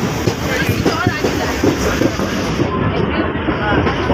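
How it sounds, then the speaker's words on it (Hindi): Steady rumble and rattle of a moving Kolkata local train carriage, with wind buffeting and a rhythmic clatter running under the noise. "अब हम फिर से लोकल ट्रेन में बैठ चुके हैं"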